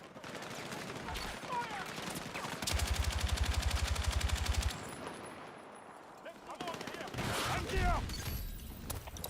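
Machine gun fire in a combat video game: a long, rapid, loud burst in the middle, with scattered shots, explosions and battle noise around it, and voices talking over the action.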